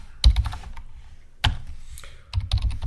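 Clicky bursts of typing on a computer keyboard, a few quick clusters of keystrokes separated by short pauses, close by while configuring network settings.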